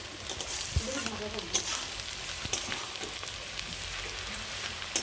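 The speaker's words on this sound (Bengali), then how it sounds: "বেগুনটা দিয়ে দিলাম, আর বেগুনটা ভাজা হয়ে গেলেই আমার মোটামুটি রান্না কমপ্লিট" Eggplant pieces fry in a pan, giving a continuous hissing sizzle at moderate volume with occasional faint clicks, and a voice speaks quietly in the background.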